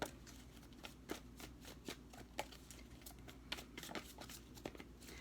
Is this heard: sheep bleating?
no